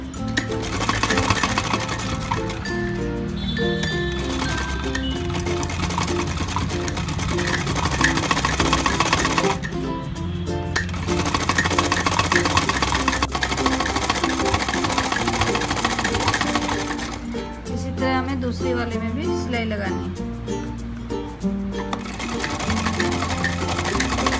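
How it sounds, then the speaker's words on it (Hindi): An electric sewing machine stitches a kurti, topstitching along a folded-in edge. The motor whirs steadily and loudly throughout, with short pauses and changes in pace between bursts of stitching and no talk. "अब इस पर ऊपर सिलाई लगानी है"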